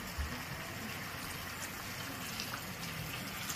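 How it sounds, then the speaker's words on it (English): Water poured into a pot of chicken wing soup on the stove, a steady even rush of liquid running continuously at moderate loudness with no talking. "I'll be adding a little bit of water to this."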